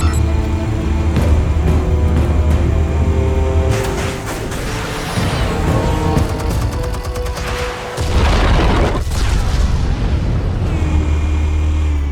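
A loud explosion from armed explosives in the Batman Telltale game, a deep booming blast with rumbling debris that rolls on for several seconds, then a second heavy boom and a lingering low roar.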